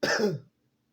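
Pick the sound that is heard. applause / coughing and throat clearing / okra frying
coughing and throat clearing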